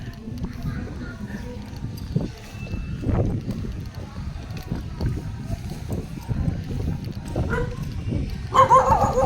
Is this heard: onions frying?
no